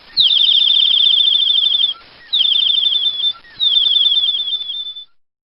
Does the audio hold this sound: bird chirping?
yes